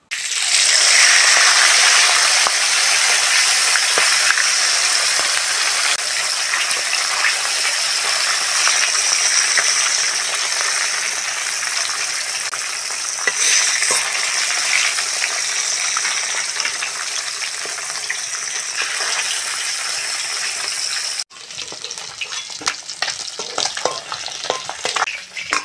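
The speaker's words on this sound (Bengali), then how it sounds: "বাকি মাছগুলো এরকম লাল লাল করে ভেজে তুলে নেব" Rupchanda fish frying in hot oil for a fish kalia curry, a loud continuous sizzle with stirring scrapes, tapering briefly before a sharper crackling burst near the end.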